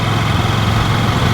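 KTM 790 Duke motorcycle engine held steady at 2,500 revs in fifth gear at about 35 mph, a continuous low rumbling drone that stays even and loud throughout, with no talking.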